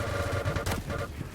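Rapid automatic gunfire in an arena shooter video game during a 2v2 amateur tournament match, a dense burst of quick shots with a sharp crack midway, over steady low game ambience.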